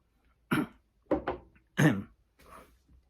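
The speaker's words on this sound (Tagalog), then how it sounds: "gamayng ubo, so sige kong mag-inom og tubig." Several short coughs in a row, close and fairly loud, with brief pauses between them and a softer throat-clearing at the end.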